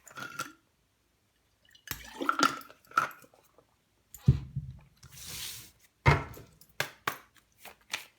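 Someone drinks water: short wet gulps and liquid sounds come in separate bursts between quiet gaps, with a couple of soft knocks, close by and without speech.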